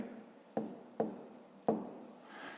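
A pen writes numbers by hand on paper, quiet scratchy strokes broken by three or four sharper taps as each figure starts, close and soft with no talk over it.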